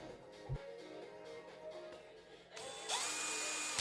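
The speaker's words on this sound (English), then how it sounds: "I'm just using a small drill bit to drill a pilot hole through both pieces here" A small power drill revs faintly under background noise, then whines louder and higher near the end as a small bit drills a pilot hole through two pieces of a Hilux switch panel.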